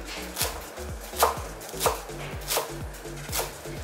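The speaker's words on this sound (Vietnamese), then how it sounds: "các bạn dùng một nhúm như thế này và băm nhỏ là đủ" A knife chops parsley on a cutting board in a steady rhythm, about six crisp close-up strikes with no talking.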